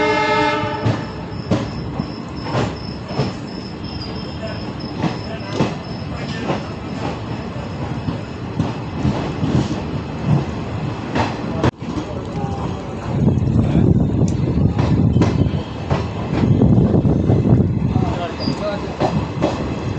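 An Intercity Express train stands and moves at Tiptur station, Hospet to Bengaluru route, with a steady rumble of carriages, clattering wheels and a horn, growing louder and heavier toward the end, with voices murmuring faintly in the background.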